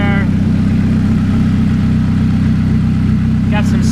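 A Chevrolet Cobalt SS engine with a new ZZP performance exhaust and downpipe idles steadily with a deep, constant rumble throughout, and a brief higher whine rises near the end.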